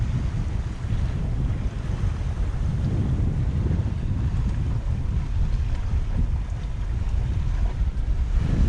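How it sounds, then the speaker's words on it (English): Strong, steady wind of about 20-25 knots buffets the microphone with a constant low roar, along with water rushing past a moving motorboat off Martinique; no voices. "It's quite windy."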